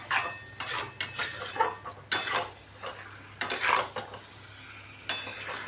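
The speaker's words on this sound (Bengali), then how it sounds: "আমি মশলার সাথে মাছগুলোকে মাখিয়ে নিচ্ছি, যাতে মাছগুলোর মধ্যে মশলাটা ঢোকে।" Whole loach fish are turned with spices in a pan for a Bengali lote macher jhal. A utensil scrapes and clanks against the metal in repeated strokes, with no talking.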